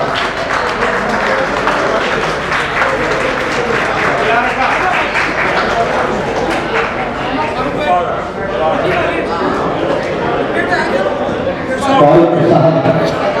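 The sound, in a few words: audience applause at an award ceremony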